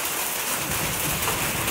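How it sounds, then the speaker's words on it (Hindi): Heavy rain pours down in a dense, continuous hiss close by, steady and loud throughout with no voices or thunder. "हमारे यहाँ तो बहुत तेज बारिश हो रही है।"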